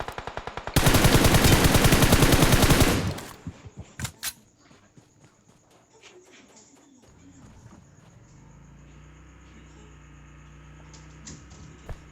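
Automatic gunfire in a video game rattles loudly and continuously for about two seconds, then a few separate sharp shots follow before quieter game ambience with footsteps and faint voices.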